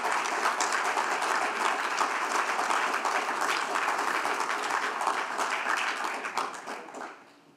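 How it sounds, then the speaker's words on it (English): A luncheon audience applauds new endowed scholarship donors at a recognition event, a dense, steady wash of many hands clapping that holds evenly, then fades out near the end. "If you'd all give it a round of applause to all these new endowed scholarship donors"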